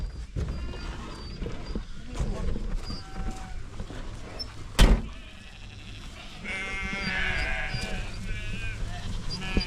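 Sheep bleating in a pen during land clearing with goats, calls rising clearly near the end over steady outdoor noise, with a sharp knock midway and a voice present.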